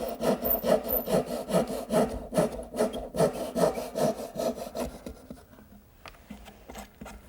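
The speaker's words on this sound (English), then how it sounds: "I'm simply going to use my dovetailing saw. Just hold my thumb up against it to guide it, and cut straight down." A hand dovetail saw cuts straight down into wood for a Shaker step stool, about a dozen rhythmic push-pull rasping strokes close to the listener, fading into quieter scraping near the end.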